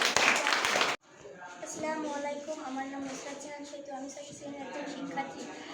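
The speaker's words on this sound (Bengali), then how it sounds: "ধন্যবাদ ওদের দলের জন্য একটা করতালি হয়ে যাক" Classroom applause for a group of students: a dense burst of many hands clapping for about a second, which stops abruptly before talking begins.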